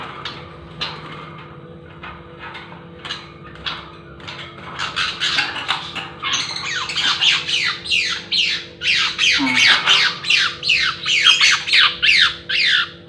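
A black-tailed magpie-robin calls repeatedly with sharp, bright, varied whistles and chatters, sparse at first then growing louder and faster, close by.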